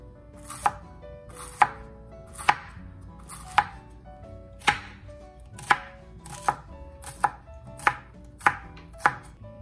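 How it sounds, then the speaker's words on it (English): A knife chops bamboo shoots into bite-size pieces on a board with about a dozen crisp, evenly spaced strikes, close and clear with no talk. "And cut into bite size."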